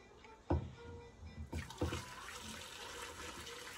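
Hot water from a boil is poured onto catfish in a pot for pepper soup, giving a few short splashing pours with a steady liquid rush after, close and moderately loud.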